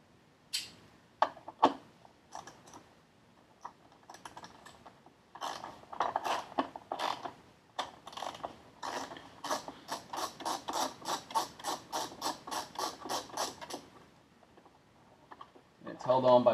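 A ratchet backs out the two screws holding the wastegate on a Dodge Dart 1.4L engine, with a few scattered clicks first, then a fast, even run of close ratcheting ticks that stops, and a brief clatter at the end.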